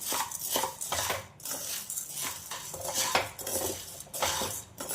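Half a kilo of sago pearls is being dry-heated in a metal pan, and a spoon scrapes and clinks against the pan in repeated bursts of rattling strokes, close and fairly loud, with no talking.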